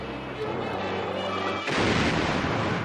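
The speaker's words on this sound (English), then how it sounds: "Out at sea, broadside after broadside was fired at the coastal batteries." Naval guns fire broadsides at coastal batteries during the 1943 Allied invasion of Sicily, a dense continuous rumble of heavy gunfire that swells louder partway through, with no speech.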